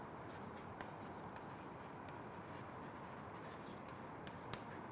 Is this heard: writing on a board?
yes